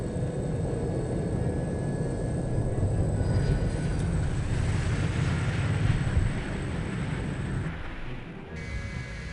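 A dense, continuous airplane engine drone rumbles loud and close inside the No One Lives Forever video game, holding steady for most of the stretch before easing slightly near the end.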